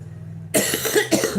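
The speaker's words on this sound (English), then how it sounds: "Why am I coughing?" A woman coughs several times in quick succession after a quiet moment, harsh and close to the microphone.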